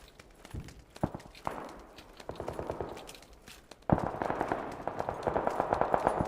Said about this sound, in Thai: เสียงปืนดังเต็มเลย